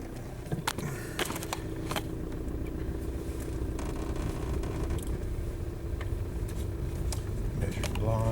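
Volkswagen car driving with a steady low engine and road rumble, interior noise with occasional clicks and knocks, fairly quiet and constant.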